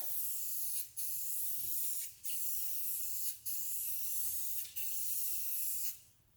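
Spray painting Corvette fuel rail covers: four steady bursts of aerosol hiss, each about a second and a half long, separated by short pauses, close and loud with no voices.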